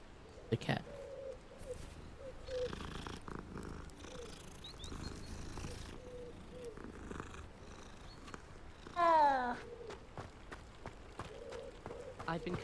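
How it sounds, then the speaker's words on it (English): A cat purrs in a Hogwarts video game as a soft, continuous low rumble under game music and character voices, with a brief squeaky chirp near the end. "The cat."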